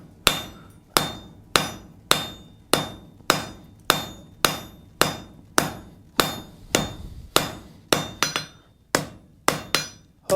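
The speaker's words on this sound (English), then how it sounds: "I'm going to start forging that down." Hammer forging hot steel for a gothic door knocker on an anvil, a steady series of about twenty sharp ringing metallic blows at a regular pace, close and loud with short decays between strikes.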